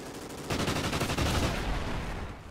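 Sustained automatic gunfire in the Call of Duty: Ghosts video game rattles in a fast, loud, continuous burst with no talking.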